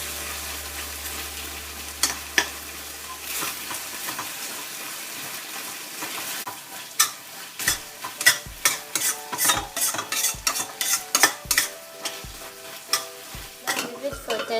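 Pork stir-fries in a pan with sauce, garlic and red chili while being stirred. A low sizzle runs underneath, and repeated scraping clatters from the utensil grow busier in the second half.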